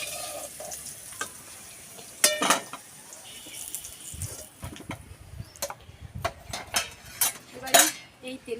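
Fried potatoes are lifted out of a pan with a utensil, sharp metallic clinks and scrapes against the pan over a soft oil sizzle, spaced irregularly and close.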